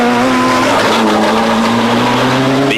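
A Peugeot rally car roars past a Ford Escort RS Cosworth on a rally stage, loud engine drone held steady at close range with a sustained whine and no talk over it.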